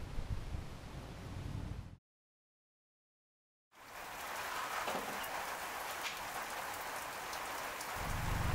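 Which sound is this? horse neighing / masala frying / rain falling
rain falling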